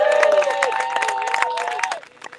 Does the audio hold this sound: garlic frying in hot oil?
no